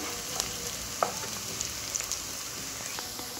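Tomato sauce sizzling and simmering in a pan, a soft, steady hiss with faint scattered pops and crackles throughout, fairly quiet and close.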